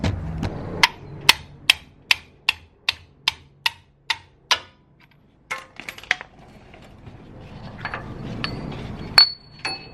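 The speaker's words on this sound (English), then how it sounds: "like pull it out or hammer it out." A car's lower control arm bushing is hammered out in a home garage: about eleven evenly spaced, sharp metallic blows ring out close up, followed by looser clinks and handling noise.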